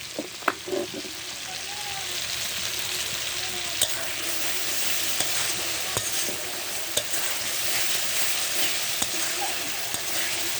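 Goat meat sizzling steadily in oil with ready-mix meat masala, a dense continuous frying hiss with occasional stirring clicks throughout.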